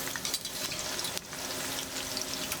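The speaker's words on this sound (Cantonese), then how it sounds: "So heat up your oil, and then we start to fry the eggplant." Bite-sized eggplant cubes frying in hot oil for a stir-fry with salted fish, giving off a soft, continuous sizzle and crackle at close range, quiet and without talk.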